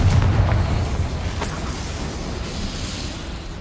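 Confringo blasting curse exploding in the video game Hogwarts Legacy: a heavy, booming burst that opens loud and rumbles, then decays into a lingering crackling wash.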